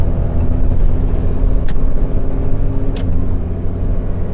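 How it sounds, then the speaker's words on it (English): A truck barreling past on a highway, heard as a loud, continuous low road and engine roar from inside a vehicle, with two brief sharp ticks along the way and no voices. "I'm gonna wait for this truck because he's barreling."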